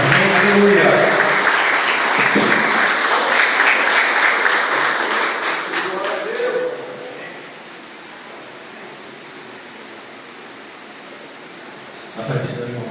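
Hands clap together in a church congregation, a dense, loud patter lasting several seconds before fading into the room's quiet hiss, with a brief clatter near the end.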